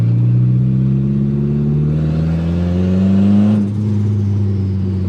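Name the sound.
Evo engine revving with turbo fluttering, dump off turbo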